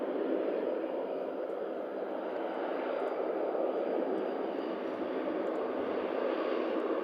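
An Avanti Air Dash 8 turboprop at Manchester Airport gives off a steady, fairly faint engine drone from a distance, heard alone with no voices.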